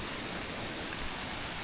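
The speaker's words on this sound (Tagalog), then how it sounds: "Ang lakas ng ulan, no?" Heavy rain pours down on a muddy mountain trail, a dense, even hiss with no breaks or voices, close and steady through the whole short stretch.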